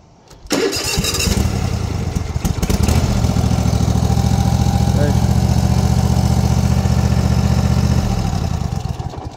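A 24.5-horsepower motor fires up and settles into a loud, steady close-range idle, a continuous low rumble holding for several seconds before easing off at the end.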